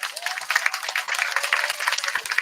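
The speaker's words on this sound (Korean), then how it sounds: "오늘 참여해주신 모든 팀에게 큰 박수 부탁드립니다." Audience applause at a Red Road busker festival finals, honoring eight competing teams: a short burst of dense, steady clapping from a crowd, fairly loud and continuous with no clear talk over it.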